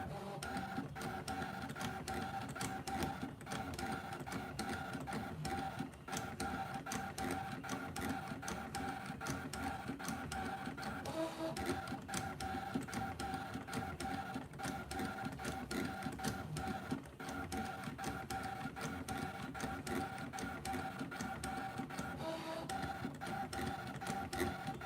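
A cutting machine feeds and scans a printed design for sublimation material, producing a continuous mechanical whir with fine rapid ticking and steady tonal hum, moderately quiet and unbroken, with no one speaking.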